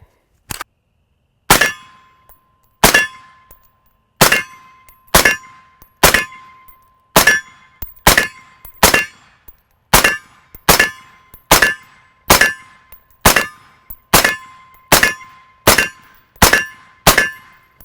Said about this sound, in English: I actually could hear a ring. I was getting good feedback, almost like a pistol target.